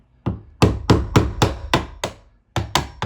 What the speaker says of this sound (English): you want to hammer on this screwdriver at an angle